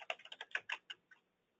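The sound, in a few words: typing a password on a computer keyboard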